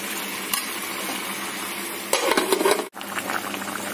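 A pot of chicken curry bubbles and sizzles steadily on high heat, with a spoon stirring and scraping against the pan partway through.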